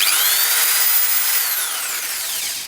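An Ozito 260W belt file sander set to its top speed setting of 6, giving a steady, loud high-pitched whine with a falling tone, running alone with no talk throughout.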